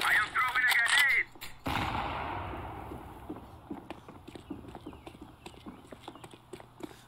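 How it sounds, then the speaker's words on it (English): A grenade in a first-person shooter game goes off with one sharp blast. A rumble fades slowly after it, and scattered light clicks and steps follow, while some game sounds come just before. "I am throwing a grenade!"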